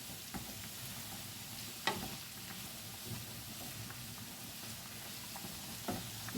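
Noodles and shrimp stir-frying in a pan, a steady loud sizzle with occasional sharp clicks and scrapes of stirring, no voices.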